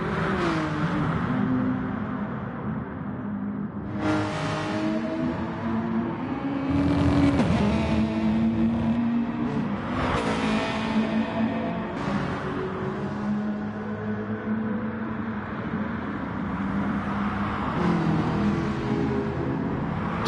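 Gran Turismo race cars roar past in a GR3 online race, engines screaming and rising in pitch through upshifts, with several cars passing close and loud over a steady engine drone.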